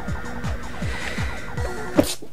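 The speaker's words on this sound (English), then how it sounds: "And a sneeze." A single sharp sneeze bursts out near the end, brief and close, over a low, steady background rumble.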